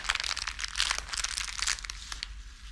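Clear plastic wrap crinkles and rustles in rapid, crisp bursts as flowers are wrapped by hand, close and fairly quiet, with no talking.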